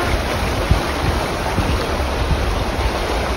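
Steady rush and slosh of water with low rumbling, like cars pushing through deep floodwater nearby on a street in Suriname.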